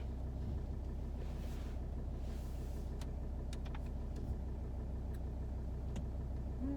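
Car easing out of a garage, its low engine hum and rumble steady and close, with a few brief clicks and knocks scattered through and no voices.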